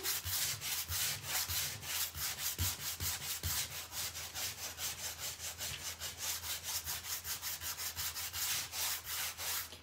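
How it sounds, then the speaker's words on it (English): Painted wood sanded by hand to distress a thin coat of paint in a buffalo plaid pattern: rapid, even back-and-forth scratching strokes, close and continuous throughout with no talking. "when you're distressing it like this, any of those little bleed marks that you might have gotten, because it's a thin piece of coat of paint, a lot of times it just sands off"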